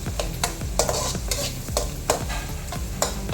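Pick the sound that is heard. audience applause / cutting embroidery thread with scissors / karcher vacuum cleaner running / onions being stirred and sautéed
onions being stirred and sautéed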